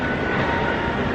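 A crowded shuttle tram runs between Gatwick terminals, a steady close rumble and whirr of the ride with no clear voices.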